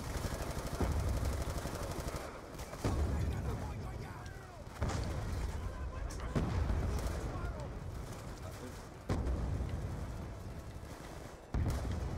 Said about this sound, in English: Somebody finally blew up that stupid building